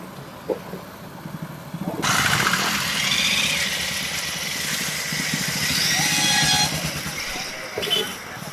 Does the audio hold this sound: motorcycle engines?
yes